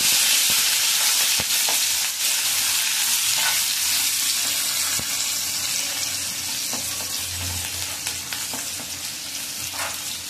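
Chopped onion sautés in a hot pan for moong dal amti, giving a loud continuous sizzle with scraping stirs and occasional clinks throughout, with no voices.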